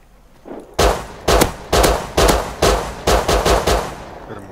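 Loud bursts of automatic gunfire from the survival video game Rust, about eight sharp volleys in quick succession, close and punchy, with brief gaps between them and no talking over the shots.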